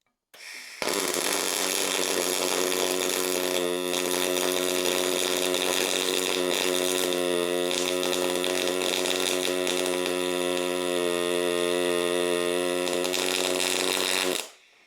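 A semi-automatic welding arc gives a steady, loud, harmonic buzz. It starts abruptly, runs unbroken for about fourteen seconds, then cuts off cleanly.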